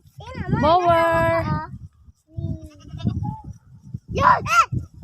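Goats on a farm in Oriental Mindoro bleat loudly up close, one long wavering cry followed by shorter calls, with people talking between them.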